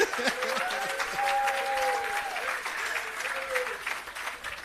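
Audience applauding Prime Minister Holness at the commissioning of the Parnassus irrigation system and agro park, steady clapping sustained throughout with a few whistles over the crowd.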